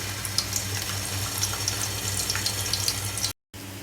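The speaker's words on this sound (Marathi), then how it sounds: "आता तेल गरम झाले की आपण यामध्ये कांद्याची प्युरी टाकणार आहोत" Onion puree fries in hot oil with a dense, steady sizzle and spatter that runs evenly, then breaks into a brief silent gap before resuming.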